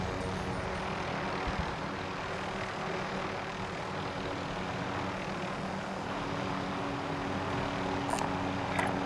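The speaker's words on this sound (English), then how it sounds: "Enemy attack chopper is in the AO" Enemy attack helicopter in the video game Call of Duty: Modern Warfare, a continuous airborne engine drone humming steadily over the battlefield ambience at moderate distance, with no talk over it.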